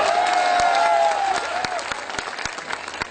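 Audience applause at a Hindi poetry recital, a broad clatter of clapping that starts fairly full and thins toward the end, with a sustained voice tone drawn across the first half.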